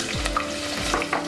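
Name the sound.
frying chillies, onions and curry leaves in a pan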